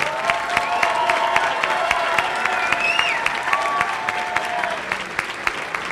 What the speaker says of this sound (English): Give a big round of applause for our campaign team.